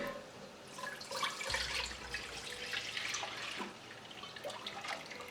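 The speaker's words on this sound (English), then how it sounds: "in a pot I'll just add my milk" Milk poured into a cooking pot to start sheer khurma, a steady, close liquid pour lasting several seconds with no voices.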